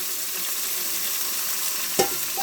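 Water hits a hot pan of frying onions and curry leaves for a fish and crab curry, giving a loud, steady hiss throughout and a single small clink near the end.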